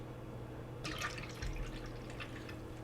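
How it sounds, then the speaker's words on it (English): Cold water, about three cups, is poured into a bowl of Jell-O mix, a soft splashing trickle that begins suddenly and runs steadily over a low background hum. "And now we add the cold water"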